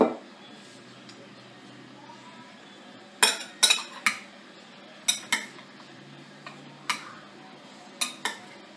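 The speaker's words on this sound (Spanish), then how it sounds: "Voy a mezclarlo todo aquí junto." Ingredients for a spicy pineapple snack being mixed together in a bowl, with a series of sharp clinks and taps of utensil against bowl spaced irregularly over a quiet background.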